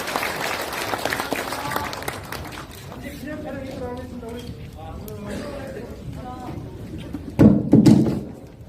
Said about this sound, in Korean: 이상으로 해서 우리 이재명 대표님과 우리 전라북도 농업인 지도자회 간담회를 힘찬 박수로 마치겠습니다